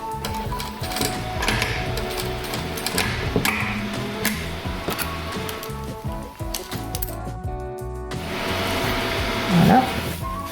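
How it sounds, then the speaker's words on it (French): A sewing machine fitted with a pintuck foot topstitches trouser back pockets about 1 mm from the edge, whirring in quick stitching bursts with a brief pause near the end. "maintenant je prends mes 3 poches et je viens faire mes surpiqûres nervures à 1 mm du bord"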